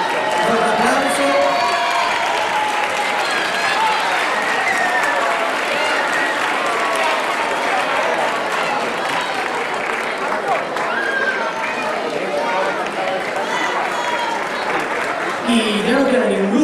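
A big crowd at a Galician scout festival applauds loudly and continuously, with cheering, whoops and children shouting mixed into the dense clapping, and voices rising over the din throughout.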